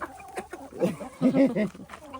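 Low, throaty clucking from a nearby hen, a few short bursts in quick succession with faint background noise.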